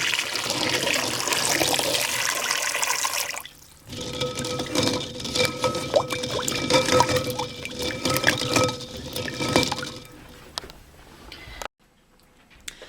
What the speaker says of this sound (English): I'm going to go ahead and pour this off and do it again.